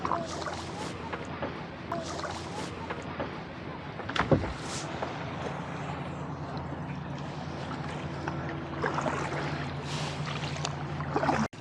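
Steady splashing and swishing of a kayak paddle through water off Blake Island, Washington, with wind and ambient outdoor noise throughout and a low engine drone in the background.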